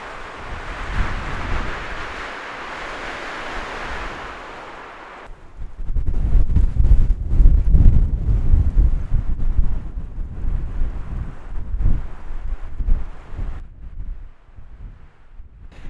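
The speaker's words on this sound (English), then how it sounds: "Looks like it's going to be a windy morning at camp." Wind buffets a morning campsite on the Mojave Road, first as a steady airy rush, then as loud, gusty rumbling blasts against the microphone that rise and fall irregularly.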